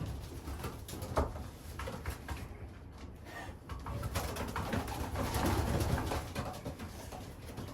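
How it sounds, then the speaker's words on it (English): Young pigeons coo in a youngbird loft with grizzle birds, soft murmuring calls close by, mixed with light shuffling and rustling and no talk. "young pigeons"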